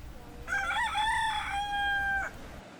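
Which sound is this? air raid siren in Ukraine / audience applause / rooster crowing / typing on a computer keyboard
rooster crowing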